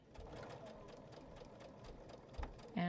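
A sewing machine stitches a Y seam on a Lonestar quilt, its rapid, even mechanical whir running steadily at close range before a brief clunk and a change in tone near the end.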